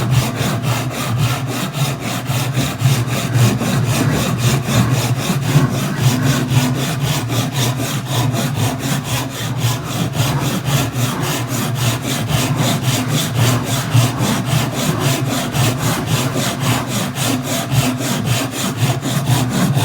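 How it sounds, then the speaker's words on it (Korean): Hand saw cutting deep on a diagonal through wood, a fast, even rhythm of rasping back-and-forth strokes, loud and close, continuing without pause. "사선으로 하는 톱질은 지금 되게 깊은 톱질을 하는 거예요"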